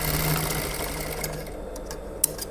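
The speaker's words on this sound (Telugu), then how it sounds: "ఫస్ట్ కుట్టే ప్లేట్కి 2 కుట్లు వేసుకోవాలి." A sewing machine stitches a pleat in fabric, its rapid mechanical chatter running steadily at close range with a few small ticks and clicks near the end.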